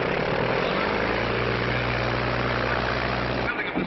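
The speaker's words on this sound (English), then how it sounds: "Bill's going to fly his own plane." A 1930s propeller plane's engine drones steadily and loudly through most of the stretch, a broad roaring hum with a low tonal throb, then cuts off abruptly near the end.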